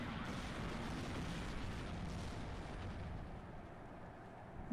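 Artillery fire in the WARNO wargame, a continuous dense rumble of distant booms and explosions blending into a steady low roar that eases slightly toward the end.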